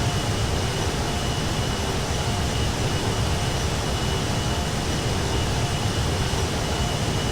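An airplane circles for a second approach to runway 23 at Los Santos International in GTA 5. The engine roar stays unbroken at an even, moderately loud level, with no speech over it.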